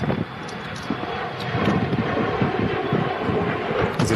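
An Air France airliner roars steadily in the distance, a broad rumbling jet noise with wind buffeting the microphone, loud and unbroken throughout.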